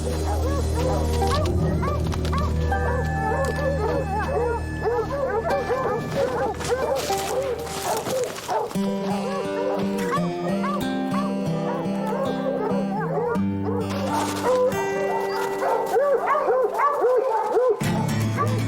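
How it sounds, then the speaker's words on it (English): Hunting dogs bay and howl on a mountain lion trail, a continuous chorus of yips, bays and howls over a backing music score, dense and loud throughout. "follow the baying of the dogs"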